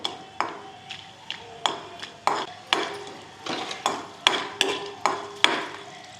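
Whole spices such as coriander seeds dry-roasting in a pan for spicy Katachi Amti, with a spatula striking and scraping the metal in sharp, close clinks about twice a second.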